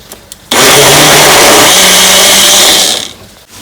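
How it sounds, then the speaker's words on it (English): A kitchen blender whirs loudly and steadily for about two and a half seconds, blending yogurt with gram flour and water, starting abruptly and winding down at the end. "Now I'll blend this."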